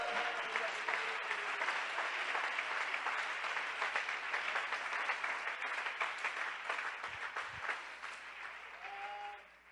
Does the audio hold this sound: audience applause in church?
yes